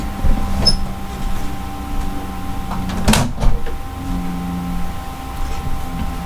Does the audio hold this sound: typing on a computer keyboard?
no